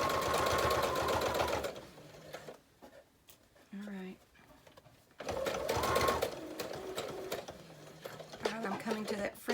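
A sewing machine stitches a journal pouch in rapid mechanical bursts, pausing while the presser foot is lifted and then resuming, with someone talking between the runs.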